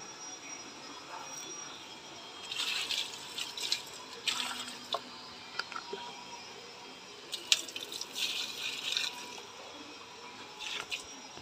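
Water splashing and trickling over leafy plants being washed outdoors, with intermittent bursts of spray and dripping at moderate distance, no talk.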